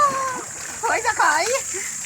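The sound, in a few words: water splashing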